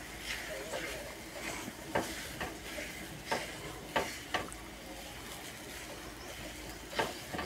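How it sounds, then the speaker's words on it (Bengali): Spices fry in a pan with mashed boiled potatoes as a utensil stirs and scrapes at a steady pace, with occasional sharper knocks over a soft continuous sizzle. "এবার ভালো করে নেড়ে চেড়ে নেব।"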